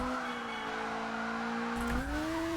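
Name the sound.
car drifting in a racing video game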